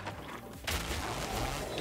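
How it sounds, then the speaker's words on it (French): Explosions in the 2024 PC retro-style game RetroRealms Ash vs Evil Dead: a sudden burst of crackling blasts breaks in after a quiet start and continues as a faint, rolling fusillade. "y a des explosions et tout"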